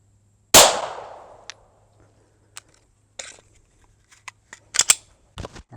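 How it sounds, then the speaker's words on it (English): A single loud Glock 34 pistol shot with 124 grain 9mm ball ammo cracks up close and decays with a short echo, followed by scattered faint clicks, rustles and handling knocks in a quiet space. "I'm going to be shooting a Glock 34 with standard 124 grain 9mm ball ammo"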